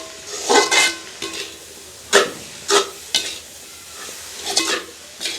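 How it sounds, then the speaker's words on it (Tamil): A spoon stirs dried fish curry with salt in a pan in a village kitchen, giving a series of separate scraping, sizzling strokes with short pauses between them. "இப்படியே நல்ல வடிவாக கலந்து விடுவோம்"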